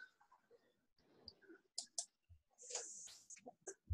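Keys tapping on a computer keyboard in scattered quick bursts and single clicks, fairly close, with pauses between runs and no talk over it.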